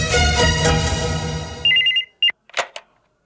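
A telephone rings loudly and continuously, then gives a few short, clipped electronic beeps as it cuts off, followed by brief handling clicks.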